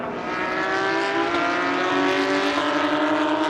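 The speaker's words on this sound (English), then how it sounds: "sound of Porsches never gets old" Porsche race cars run on the Hungarian GP circuit, a loud, sustained engine roar with rising and falling pitch as the cars pass close by, with no voices over it.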